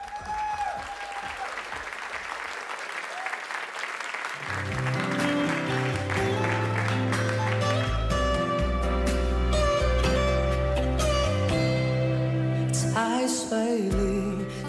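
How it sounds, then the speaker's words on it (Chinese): Audience applause at the 2011 semi-final of a Chinese celebrity-impersonation singing contest, steady dense clapping from a crowd that soon runs under the opening instrumental music of the next contestant's song. "掌声欢迎。"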